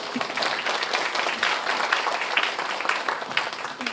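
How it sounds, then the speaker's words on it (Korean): An audience at a care workers' event in South Gyeongsangnam-do gives steady, dense applause, a continuous wash of many hands clapping close by, with no talking over it. "다시 한번 큰 박수 부탁드리겠습니다"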